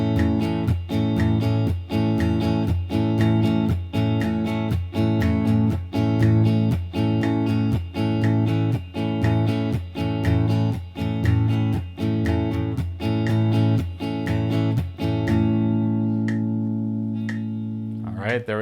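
Repeated rhythmic guitar exercise with the second-to-last note of each pattern muted, steady plucked or strummed hits at a regular pulse, played close and loud, ending on a sustained ringing chord.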